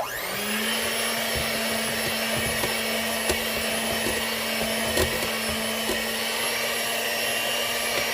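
An electric mixer beats pineapple butter pound cake batter, a steady, loud motor whine that holds an even pitch throughout, with small clicks and knocks of the beaters in the bowl.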